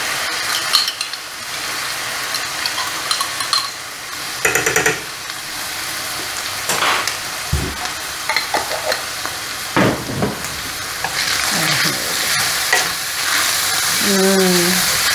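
Chopped garlic sizzles in a hot frying pan with stirring and light scrapes of a utensil against the pan, a steady frying hiss running throughout with brief clatters near and loud.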